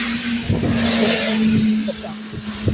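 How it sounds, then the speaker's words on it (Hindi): A vehicle, likely a truck, grinds past on a narrow, rain-soaked, congested road, its engine drone steady and close beneath continuous traffic noise. "ये देखो ट्रक जा रहा है ना"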